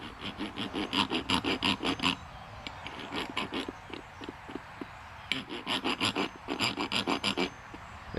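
Thread file rasping back and forth over bolt threads on a John Deere 110 lawn tractor, a close, steady series of rhythmic scraping strokes in two bursts with a short pause of lighter strokes between.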